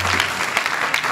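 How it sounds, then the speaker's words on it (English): Brief burst of crowd applause closing a youth camp speech, a thick, even wash of many hands clapping at close range, short and sustained without voices. "Give yourselves a huge round of applause."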